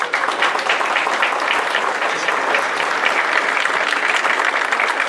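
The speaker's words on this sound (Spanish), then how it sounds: "les pediría a ustedes un fuerte aplauso." A conference audience applauds strongly and steadily for the full stretch, a dense, loud wash of clapping with no voices breaking through.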